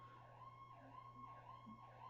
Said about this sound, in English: sorry, the siren, I'm just going to wait for it to pass